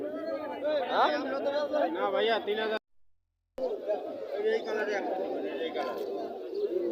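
White Baghdadi homer pigeons cooing in cages at a busy pigeon market, their soft coos mixed into steady crowd chatter and nearby talking, with a brief silent gap partway through.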